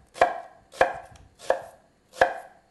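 A knife chops down through an onion on a cutting board, four crisp, evenly spaced thuds close up with no talking.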